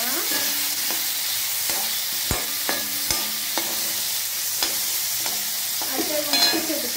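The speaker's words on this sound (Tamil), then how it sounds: "தக்காளி ரொம்ப நல்லா வதக்கிடலாம்" Tomatoes sautéing in a pan for mint chutney, a continuous loud sizzle broken by regular spoon scrapes and clinks of stirring against the pan.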